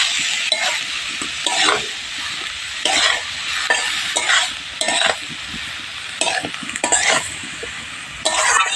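Red amaranth greens with green chili and salt stirred in a hot pan, a steady sizzle broken by repeated scraping bursts of a spatula against the metal, close and irregular.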